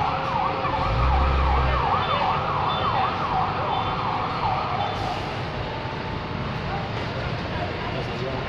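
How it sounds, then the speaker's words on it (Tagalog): A fire truck siren wails in a steady rising-and-falling pattern for several seconds at a fire in Quezon City, loud over constant background noise and distant voices. "Andyan na yung bumbero kaya lumakas na"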